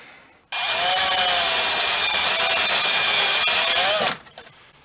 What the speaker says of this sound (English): So I'm going to have to drill out some rivets today.